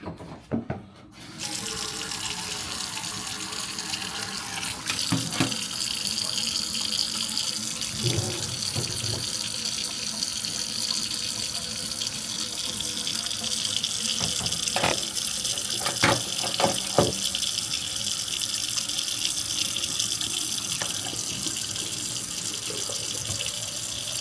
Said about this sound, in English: Just run the water first and then we'll fill them up and then drain them.